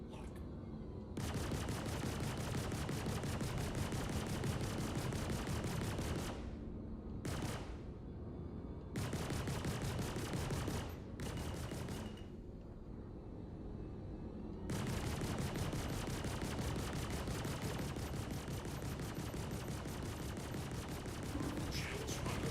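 Space combat in a video game, with outlaw ships' weapons fire hammering a spaceship in long dense volleys, broken by a few short pauses, steady and fairly quiet throughout.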